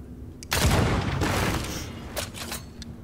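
Game gunfire in Banishers: Ghosts of New Eden: after a low, quiet background hum, one heavy shot bursts out and rumbles off over about a second, followed by a few fainter, sharper shots spaced out toward the end.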